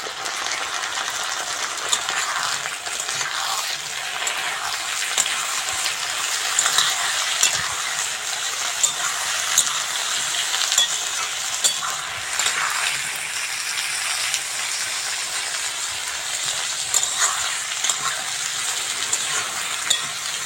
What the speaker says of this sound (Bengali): বেগুন আর আলুটা ভালো করে ভেজে নিয়েছি